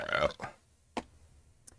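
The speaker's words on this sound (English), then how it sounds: "Coke making me burp." A short throaty burp after drinking Coke, fairly close and moderately loud, followed by a couple of faint clicks in a quiet room.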